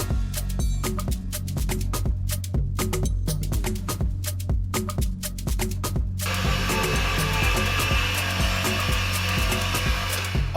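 A mixer runs on slow speed through pumpkin spice Bundt cake batter. At first it makes rapid, regular clicking, then after about six seconds it becomes a denser, continuous whirring close by.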